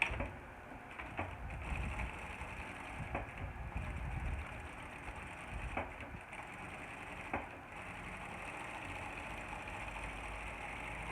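A sewing machine runs steadily while stitching a channel for 0.5 boning, a continuous close mechanical hum with faint periodic ticks throughout.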